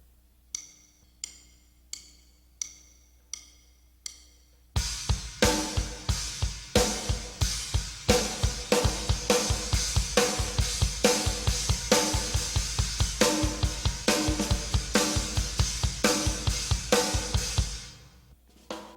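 A drum kit plays: a few sparse cymbal hits at first, then a dense, driving displaced-triplet beat of bright trashy China cymbal crashes with steady kick and snare, loud and close.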